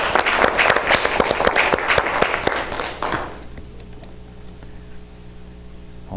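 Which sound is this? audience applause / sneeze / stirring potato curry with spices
audience applause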